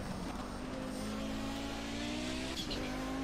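Race car driven in the Project CARS video game on the Ruapuna track, a steady engine drone with rising pitch under acceleration and a brief tire scuff, moderately quiet.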